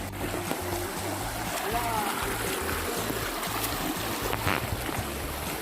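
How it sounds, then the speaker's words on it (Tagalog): Steady rushing and trickling of river water, continuous and fairly close, with a low rhythmic rumble underneath. "Ito yung ilog na pinagliliguan namin kanina."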